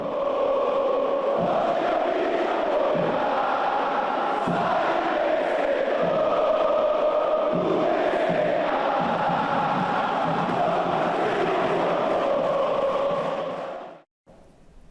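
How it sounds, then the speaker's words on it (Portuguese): Football supporters in a packed stadium roar and chant together, a dense, steady wall of voices holding loud for about fourteen seconds before cutting off abruptly. "A torcida deu um show"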